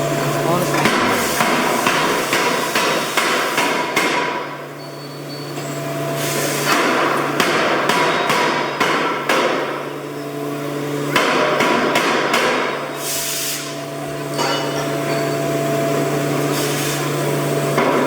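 Free forging of hot steel at the Eurostall factory, with a heavy forging hammer pounding the metal in repeated loud blows amid dense, continuous industrial clatter and hum, with possible voices in the background.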